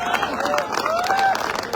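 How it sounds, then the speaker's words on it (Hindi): An audience at a public speech claps in a scattered, moderate round of applause, with crowd murmur and a voice faintly underneath. "27 करोड़ के लिए ताली तैसे बजा रहे जैसे कुछ है ही नहीं"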